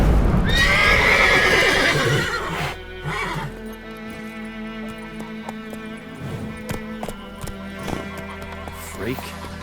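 A horse in The Witcher 3: Wild Hunt gives a loud close neigh at the start, followed by rhythmic hooves clip-clopping under game ambience.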